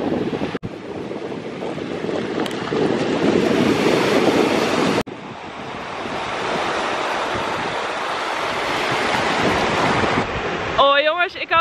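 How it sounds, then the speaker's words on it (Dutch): Surf breaking on a beach on a foggy day, a steady broadband wash of waves with gusty wind rumble on the microphone, loud and continuous, briefly cut twice, with a short tonal burst of another sound at the end. "Oh, kijk dan de zee."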